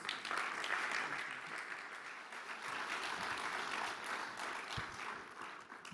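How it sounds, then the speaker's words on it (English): Sustained audience applause at the opening ceremony of the 15th ITS European Congress, greeting Dr. Angelos Amditis; a dense, steady wash of many hands clapping throughout, moderately distant with no voices over it. "Everyone, a big applause for Dr. Angelos Amditis."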